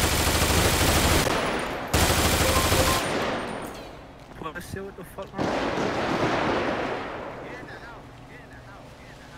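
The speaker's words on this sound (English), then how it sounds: "Are they shooting from the highway?" Sustained, loud bursts of automatic and rapid gunfire in the open-world game GTA San Andreas, dense and continuous with brief gaps, sounding fairly close, while players swear and talk over it.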